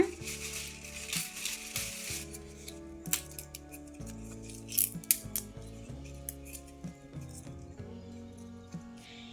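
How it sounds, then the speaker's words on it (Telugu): Scissors snip through eucalyptus leaves in a series of crisp, irregular cuts close by, with background music playing throughout. "ఆకంతా కట్ చేసుకొని ఈ సీసాలో అయితే వేసుకున్నానండి"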